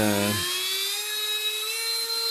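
A 1/8-inch diamond-impregnated glass drill bit spins up in a rotary tool, starting with a low rumbling whir that rises into a steady, high, piercing whine, loud and close with no voices.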